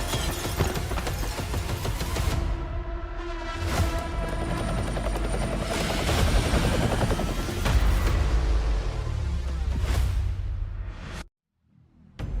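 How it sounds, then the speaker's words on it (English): Helicopter approaching for extraction in the Call of Duty: Mobile battle royale, its loud steady rotor drone mixed with game music, booms and whooshes, ending abruptly in a brief silence. "Helo inbound. 50 seconds to extraction."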